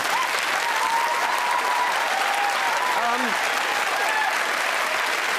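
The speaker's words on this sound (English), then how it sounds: "Let's have a pointless round of applause there" A crowd claps steadily, a dense, even wash of applause that holds for the whole stretch.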